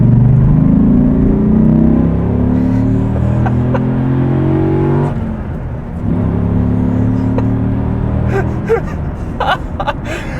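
A Dodge Ram SRT-10 pickup truck's exhaust roars as it accelerates, the engine pitch climbing, dropping at a gear shift, then rising again, loud and close.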